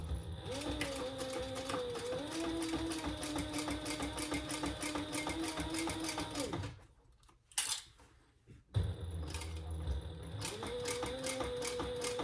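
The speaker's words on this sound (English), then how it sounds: "Now we're just going to stitch down, top stitch down the sides." A sewing machine top stitches down the sides of a sling crossbody bag in a steady close whir, pausing briefly for a few clicks and fabric handling before stitching resumes.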